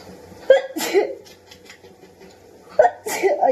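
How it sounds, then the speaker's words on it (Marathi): Two sharp, loud sneezes burst out about two seconds apart, each with a gasping intake before it, set off by Maggi masala powder going up the nose. "चौथी शिंक"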